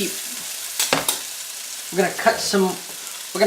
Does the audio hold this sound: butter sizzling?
yes